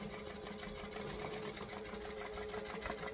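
A sewing machine back stitching a bag hums continuously with a faint, steady mechanical drone for a few seconds, quiet and unbroken, with no talking.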